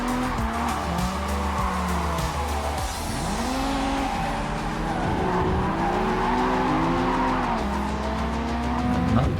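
A car drifts in JDM: Japanese Drift Master, its engine revving and bouncing between gears while long tire squeals and skids sweep in and out. The sound is close and continuous throughout.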